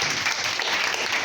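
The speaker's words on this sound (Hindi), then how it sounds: "वेरी गुड, ताली बजाना इनके लिए।" Schoolgirls in a classroom clapping together, a dense, steady burst of applause that fills the short moment with no talk over it.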